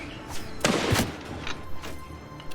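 A gun fires in modded Mount and Blade 2: Bannerlord amid a medieval battle, giving a couple of sharp cracks with thuds and clattering combat noise around them.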